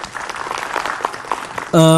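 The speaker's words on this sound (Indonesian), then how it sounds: "Silakan tepuk tangan buat Ustadz Azhari." A studio audience on an Islamic television program claps in a loud, continuous burst, cut off near the end by a sudden bright musical tone.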